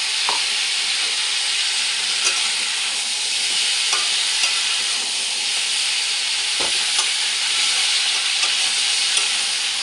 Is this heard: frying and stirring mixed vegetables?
yes